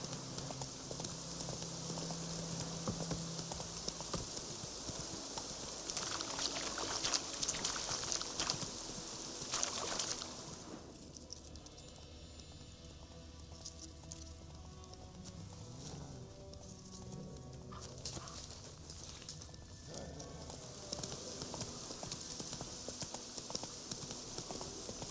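Roach, a horse in The Witcher 3, gallops with steady rhythmic hoof clip-clop over an ambient outdoor game soundscape, continuous and moderately loud throughout, with no talking.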